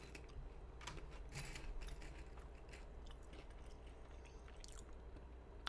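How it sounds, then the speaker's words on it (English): A person chews food close to the mic, soft crunchy bites and mouth sounds repeating steadily over a low constant background hum, with no talking. "As you hear me eat."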